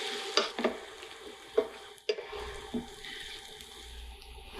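Onions fry softly in a pan, a faint steady sizzle broken by several sharp clinks and scrapes of a spoon stirring, close and quiet with no talk.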